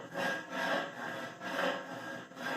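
A scraper rubs back and forth across a powder-coated metal rack, making a rhythmic series of about five gritty, scuffing strokes, close and moderately loud with no talking.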